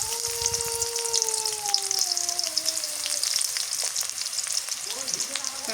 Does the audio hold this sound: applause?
no